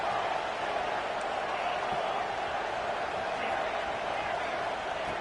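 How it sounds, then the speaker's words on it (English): Stadium crowd at a football game roaring as the defense tries for a red zone stop: a thick, constant wall of crowd noise, loud and unbroken throughout, with no break or swell. "here comes the noise. This crowd is trying to inspire this defense to make a big red zone stop."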